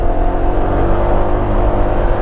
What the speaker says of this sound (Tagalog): Ang kanilang motor ay Sniper 150.